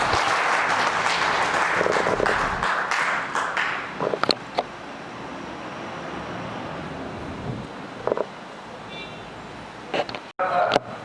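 Loud, sustained applause from an assembled audience welcomes the vice principal at the Sainik School Rewari Founder's Day celebration, clapping strongest at the start before thinning into scattered claps.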